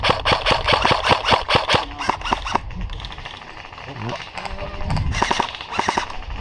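Airsoft guns fire in a rapid, evenly spaced burst of sharp cracks at an outdoor game, then fall quiet, then return in a shorter cluster of shots, with a voice briefly talking between them.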